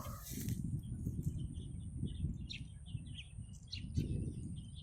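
Scattered high chirps and short bird calls over a steady low rumble, fairly faint and distant, with no voices.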